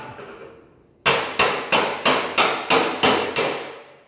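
Hammer blows pound on spot-welded sheet metal to pop the welds loose, eight loud, bright metallic strikes in an even rhythm close by after a brief quiet start, with no voices.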